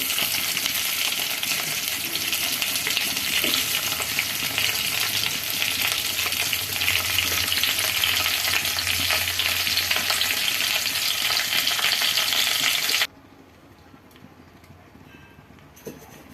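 Dried fish curry sizzles and fries loudly in a pan while being stirred, a dense steady crackle with occasional scraping that runs about thirteen seconds and then cuts to a much quieter background.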